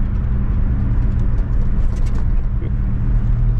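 A car with a BBS bodykit on new wheels cruises down the road, heard from inside as a loud, steady engine and road rumble that continues without a break.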